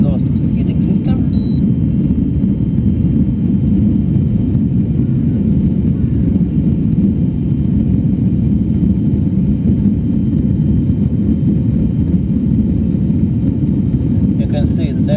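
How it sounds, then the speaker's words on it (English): Exhaust outlet of a heating system on a steel-hulled boat, a loud, steady, close rumbling roar that holds unbroken and even throughout. "now this is the exhaust of this heating system"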